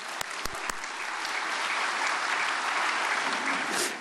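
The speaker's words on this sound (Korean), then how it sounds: "나오실 때 큰 박수로 모시겠습니다." A church crowd breaks into sustained applause, steady clapping from many hands filling the room, with a few sharp claps at the start.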